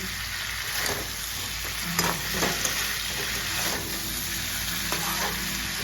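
Cauliflower and potato curry with spices frying in a pan on low-medium heat, a steady close sizzle with scraping stirs throughout.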